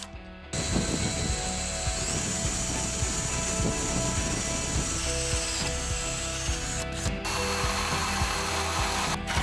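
A ratchet clicks steadily and continuously, close up, while tightening bolts on the front suspension of a 1965 Chevrolet Impala during a Ridetech suspension kit install, with faint metallic rubbing alongside.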